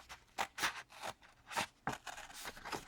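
Scissors snip through paper while cutting out a homemade Easter card, a quick series of about six or seven crisp, close cuts in an uneven rhythm, with no talking.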